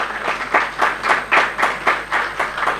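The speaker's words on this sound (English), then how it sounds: "Huge round of applause." Clapping at a certificate ceremony for road construction work comes in even, rhythmic pulses about every quarter second, close and moderately loud with no voices over it.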